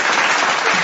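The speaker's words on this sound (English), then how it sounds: "So ladies and gentlemen, another round of applause for our speaker, Mr. Howell Mabalot." Loud, dense audience applause for a speaker at a leadership talk, a brief continuous burst of many hands clapping close by.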